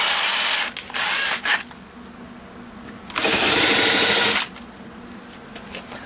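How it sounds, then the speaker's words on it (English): Power drill with a countersink bit boring into wood, loud and close: a few short whirring bursts, then a longer steady run, then quieter light handling noise. "Then we want a countersink."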